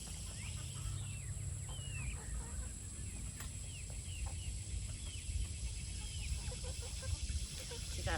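A mixed backyard chicken flock, with new birds just added to older hens, clucks and calls in short scattered bursts over steady outdoor ambience, while a person speaks softly nearby.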